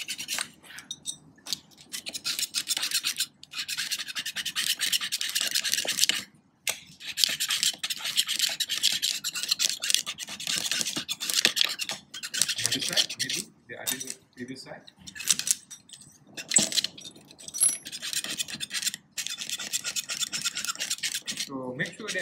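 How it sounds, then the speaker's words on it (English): Metal scraper rasping across a corroded metal sample in a petri dish, a close, harsh scraping in repeated strokes with brief pauses, and voices talking over it at times. "we use a metal scraper to scrape off the surface"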